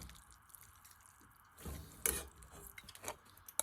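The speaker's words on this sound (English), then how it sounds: "All I'm doing here is just squeezing all of the juice out of the vegetables" Cooked vegetables for a beef and barley stew being squeezed so their juice drips into broth, heard as faint, close trickles and a few soft drips and squishes.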